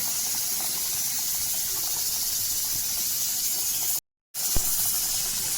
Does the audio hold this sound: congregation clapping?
no